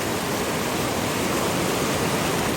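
A stream in Uttarakhand rushes with a dense, steady, broadband roar that continues unbroken throughout, loud and close, with no talking.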